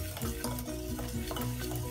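Sifted maida being stirred into mawa cake batter, a continuous dense scraping and churning from a spoon worked in one direction, close and steady with a faint tonal hum beneath and no talking.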